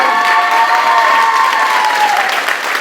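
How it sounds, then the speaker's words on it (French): Audience applause with some cheering fills a dance gala hall in Jandrenouille, a dense, steady wash of clapping from a crowd, loud and continuous throughout with faint tonal traces beneath. "Mais je voudrais qu'on l'applaudisse parce qu'elle aurait tant voulu."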